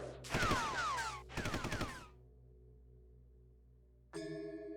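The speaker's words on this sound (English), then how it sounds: "Gunshots ring out as I leap into a nearby thicket." Gunfire in the video game Tokyo Necro comes as two loud, rapid bursts of automatic shots. A low steady hum follows, then a sharp electronic tone cuts in near the end.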